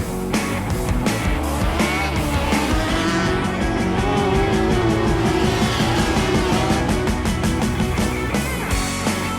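A rallycross race car spins out on track at a 2016 British Rallycross Championship round, with a loud, continuous engine roar, a pulsing exhaust rhythm and hints of tyre scrub throughout. No voices are heard.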